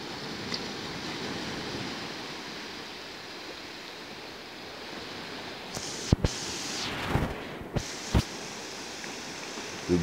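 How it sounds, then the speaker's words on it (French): Steady broadband rush of water, like waves washing on a shore, with a few brief splashy swells rising above the continuous wash. "Le bruit des vagues, de l'eau,"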